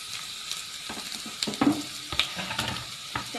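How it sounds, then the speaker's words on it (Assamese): Potatoes dropped into hot oil and stirred with a spoon, a soft sizzle under intermittent scraping and clinking strokes against the pan, close and fairly quiet. "এতিয়া তেল গৰম হৈছে আৰু মই আলুখিনি দি দিছোঁ।"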